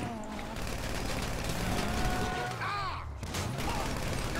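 Gunfire in GTA Online during the Fleeca heist, a few shots mixed into a busy wash of vehicle and mechanical game noise, with a voice talking over it.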